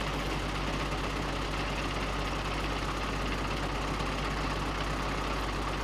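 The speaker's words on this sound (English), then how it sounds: "I'm going to grab that other tractor" A tractor engine idles steadily in the Farming Simulator 2013 game, a constant low mechanical rumble with a faint knocking texture that holds evenly throughout, with no talk over it.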